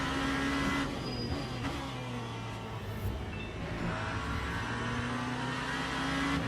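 A GT3 race car engine in the Le Mans Ultimate racing sim at Laguna Seca, droning steadily at high revs with small pitch shifts as the car works through gears, continuous and close.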